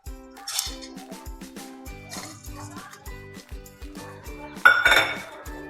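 Jaggery is added to ghee in a pan with repeated metallic scraping and clinking of a spoon against the pan, in irregular close-up strokes, with a louder clatter near the end.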